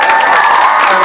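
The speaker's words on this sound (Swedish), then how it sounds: "Det är värt en applåd bara det." A studio audience claps and cheers loudly for the Idol winner Liam during a brief burst, with voices mixed into the close, dense applause.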